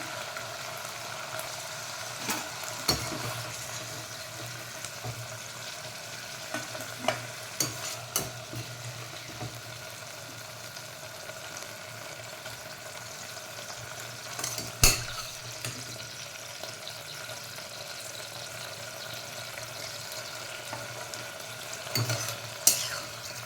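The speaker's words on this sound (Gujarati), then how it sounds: "હવે ગુવારને શેકે પાંચેક મિનિટ થઈ ગઈ છે" Cluster beans (guar) roast in a pan for a dhaba-style curry, with steady frying sizzle and repeated scraping stirs, several sharp clacks of the spatula against the pan, and no talking.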